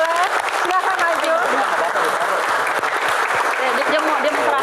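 Audience at a stand-up comedy Q&A show claps steadily and fairly loudly, with lively crowd voices and chatter mixed into the applause.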